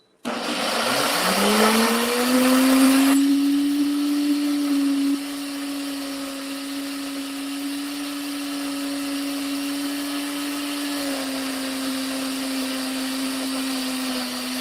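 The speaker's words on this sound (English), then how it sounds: "All right, so let's plug this up and let's blend." A blender whirs through eggs and fresh spinach, starting with a rising whine, louder and grittier for the first few seconds, then settling into a smoother steady motor hum close by with no talking.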